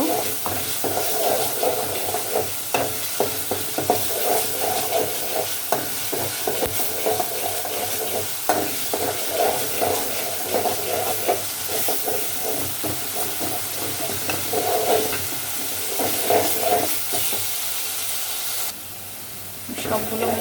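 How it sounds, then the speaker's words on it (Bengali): Ginger and garlic fry in a pan, a continuous close sizzle with irregular stirring scrapes and clicks over about twenty seconds, quieting slightly near the end. "এক মিনিটের মতন ভাজা ভাজা করে নেব"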